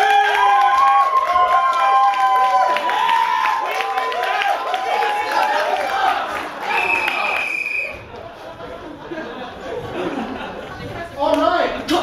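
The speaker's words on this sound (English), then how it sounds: "how many people, by the same show of applause, think the blue team won?" Improv comedy show audience applauding and cheering to vote for the blue team, crowd noise and chatter mixed with clapping, laughter and voices talking throughout.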